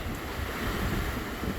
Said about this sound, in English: Sorry about the wind and whatnot. It's a little bit windy in here.